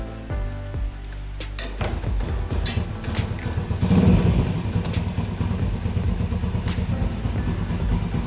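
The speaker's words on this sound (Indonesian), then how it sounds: "Pada saat mesin menyala kondisi masih netral, suaranya halus normal" A Yamaha Vega motorcycle engine starts and settles into a steady, even idle in neutral, running smoothly up close with a faint mechanical rattle.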